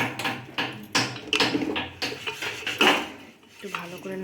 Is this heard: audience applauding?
no